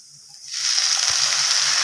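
Noodles drop into a pan of hot masala, a sudden loud sizzle and frying hiss that swells from near-silence and holds steady, with a faint clink partway through.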